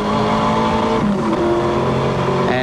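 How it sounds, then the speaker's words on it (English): Allan Grice's Group A touring car engine roars onboard at Bathurst, loud and sustained, holding steady revs before a brief dip and climb as it runs up the mountain, with no talk. "take a ride up to the top of the mountain with the Group A car that is running ever so sweetly"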